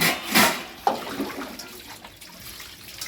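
An outdoor tap runs under high pressure, giving a brief loud rushing gush at the start that drops to a fainter steady splashing flow, close by and heard alone.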